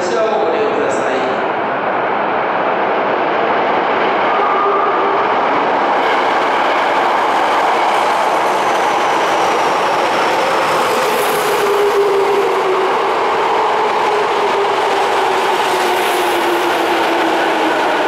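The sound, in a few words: subway train arriving at station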